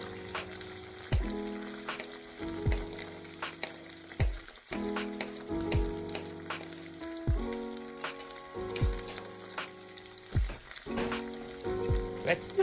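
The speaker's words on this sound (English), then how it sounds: "Let's fry all the ingredients." Ingredients for tuna and tomato rice sizzle steadily in a pan, with repeated clanks and scrapes of stirring punctuating the frying at a close, moderate level.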